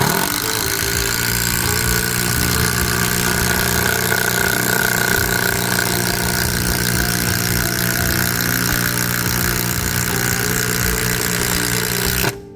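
DCK KDPL04-8 cordless brushless impact driver with a PH3 bit driving a 4-inch screw: a loud, steady, buzzing hammering drone held for about twelve seconds, then cut off abruptly at the end.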